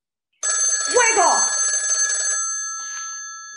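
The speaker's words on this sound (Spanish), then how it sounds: "No es la alarma, es el teléfono." Telephone bell ringing on a theatre stage, starting abruptly with a bright sustained metallic ring that fades after about two seconds, with a brief voice cutting in over it.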